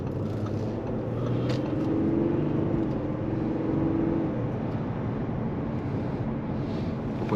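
An Audi A4 45 TDI quattro with a six-cylinder diesel engine on the road, a steady low cabin rumble of engine and tyres with a constant wash of wind, close and even throughout.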